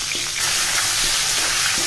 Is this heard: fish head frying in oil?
yes